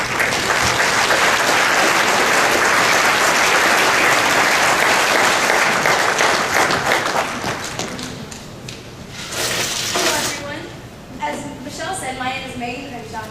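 A university audience breaks into loud, sustained applause that welcomes a speaker and fades out after about ten seconds, followed by a few thumps and the start of talking.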